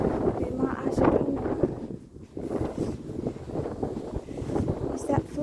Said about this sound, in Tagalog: Mahangin na, ayan na, mahangin.